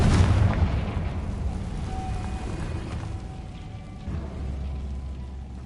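A Confringo fire spell blast in the video game Hogwarts Legacy: a loud low boom bursts at the start, then rumbles and fades into a dull lingering roar with scattered crackles.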